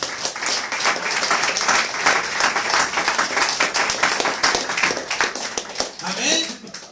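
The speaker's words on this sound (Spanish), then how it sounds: "Así que denle un aplauso al Señor fuerte." Congregation applauding during a Spanish-language church service, a loud burst of many hands clapping that stays strong before fading at the end as a voice speaks over it.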